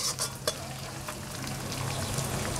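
Garlic, curry leaves, green chilli and peanuts fry in hot oil for poha chivda, giving a steady close sizzle with a few sharp crackles and pops scattered throughout.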